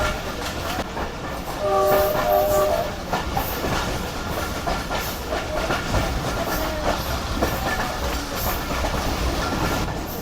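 A train rolls past a station near Lahore with steady rumbling and clatter of wagons, and a brief horn sounds early on, loud and close throughout.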